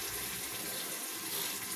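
Water pours steadily into a pressure cooker holding spiced beef and okra, a continuous splashing rush at close range with no voices.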